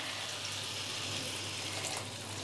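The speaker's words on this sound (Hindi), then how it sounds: "तो इस हिसाब से हम यहाँ पे पानी डाल रहे हैं।" Water is poured steadily into a pan of Bengali catfish curry, a continuous soft splashing gush heard close up with no talking.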